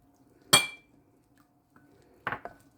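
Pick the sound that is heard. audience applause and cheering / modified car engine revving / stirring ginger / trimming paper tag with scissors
stirring ginger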